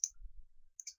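Mouse clicks in bridge analysis software come as a crisp click at the start and another pair near the end, faint and close, with a low hum between and no talk.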